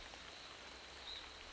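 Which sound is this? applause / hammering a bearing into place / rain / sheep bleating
rain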